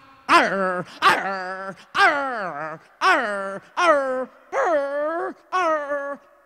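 A human voice imitates a dog, giving seven drawn-out, evenly spaced barking howls, each held briefly with a short pause between.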